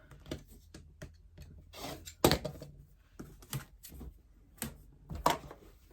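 Rotary cutter slicing the selvage edges off quilting fabric on a cutting mat for a table runner, giving a series of short, close rasping cuts and rubbing handling sounds, one louder stroke near the middle, with no talking.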